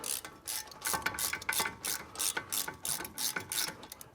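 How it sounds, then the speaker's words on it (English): Ratchet wrench clicking steadily through repeated strokes, driving an 18 mm socket on a wobble extension to start a bolt during a BMW E90 3-Series front wheel bearing job; close, crisp bursts of pawl clicks with short pauses. "we use the wobble extension on the 18 millimeter"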